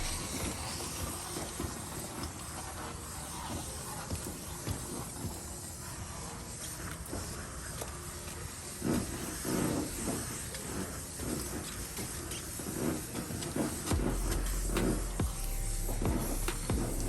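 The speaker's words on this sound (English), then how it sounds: "we're using pressure and high temperature steam here to clean" Continuous loud hiss of a steam cleaner running close by while detailing a Tesla, with occasional bumps and knocks rising over it toward the end.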